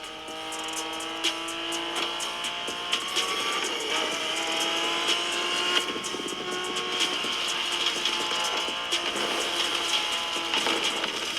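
Racing car engine in The Crew Motorfest, played on an Asus ROG Ally handheld, droning steadily at high revs with layered gear whine and small clicks throughout, loud and without talk.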